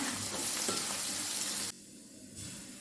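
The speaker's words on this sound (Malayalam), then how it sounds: "എണ്ണ ചൂടായിട്ടുണ്ട് ഞാൻ ഇനി പനീർ ഇട്ട് കൊടുക്കണം ചെറുതായിട്ടൊന്ന് ഫ്രൈ ചെയ്തെടുക്കണം" Paneer pieces frying in hot oil in a pan, giving a loud, steady sizzle that drops off abruptly partway through and then returns more softly.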